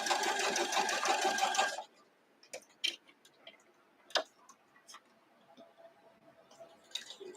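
Home sewing machine stitching a quilt block, a loud steady mechanical whir with rapid rhythmic needle ticking for about two seconds, then stopping, followed by scattered small clicks and taps of handling fabric.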